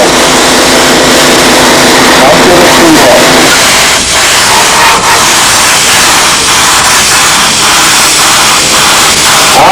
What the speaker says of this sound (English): And I think we're ready to spray.